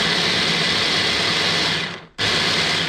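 An electric grinder whirring steadily as it grinds spices into a paste for ayam sambal matah, a loud, close, continuous motor drone that briefly cuts out and then starts again.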